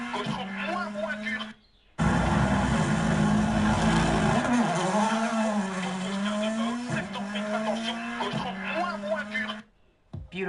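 A car engine hums steadily from inside the cabin, its pitch rising and falling with revs across most of the stretch, then briefly cutting out near the start and end, with voices talking over it.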